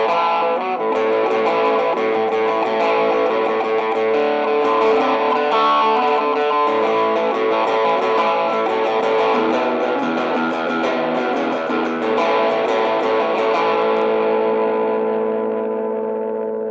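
A Fender Telecaster FMT electric guitar on its bridge humbucker, played through heavy distortion for hard-driving rock, rings out loud and sustained, with dense chords and notes and a slight echo tail.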